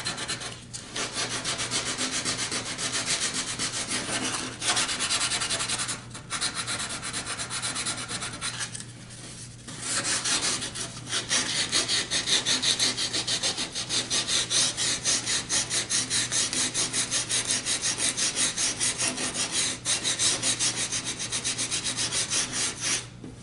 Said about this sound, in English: And hit it with some sandpaper.